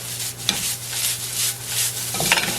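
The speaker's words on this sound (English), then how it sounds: "I want to just heat the rice up." Cooked rice spread in a wide, thin layer in a pan, heating with a soft steady sizzle and a couple of light scraping stirs, close and alone with no talking.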